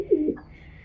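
A young pigeon coos once, close by, in a short soft burst, followed by faint quiet background.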